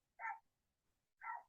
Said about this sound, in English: I don't know if you hear them dogs barking